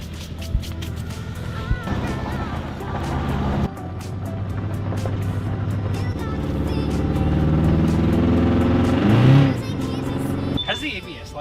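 A 1990s Acura Integra DB1 on a test drive, its engine droning steadily up close and rising in pitch as it accelerates through gear changes, with people talking over it.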